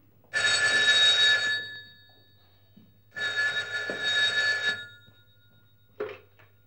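An old-fashioned telephone bell rings in two long, loud bursts with a short third ring beginning, set in an otherwise quiet room in an Arabic film scene, with faint low hum beneath.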